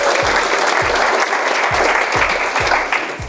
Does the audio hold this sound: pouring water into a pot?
no